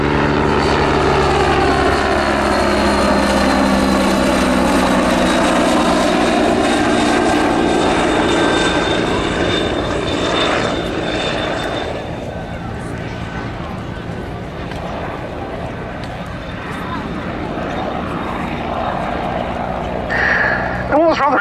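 A Westland Wasp HAS-1 helicopter flies in at an air show, its loud engine and rotor noise sweeping past and then receding. A commentator talks over it throughout.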